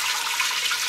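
Chicken stock poured into a pot for chicken and dumplings, a steady close splashing pour of liquid, brief and continuous.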